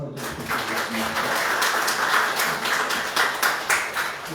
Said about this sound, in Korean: 우리 청년위원들한테 고생하셨다고 박수 한번 해주셨습니다